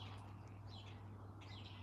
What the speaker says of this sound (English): I heard birds this morning. You can hear the birds.